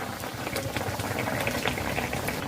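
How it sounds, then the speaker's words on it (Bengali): Bottle gourd dal bubbling in a cooking pot: a dense, steady simmer of small popping bubbles, close and continuous, with no speech. "তিন মিনিট ফুটিয়ে নিয়েছি"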